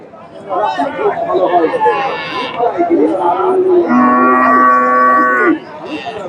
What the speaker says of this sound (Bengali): ফ্রিজিয়ান জাতের সার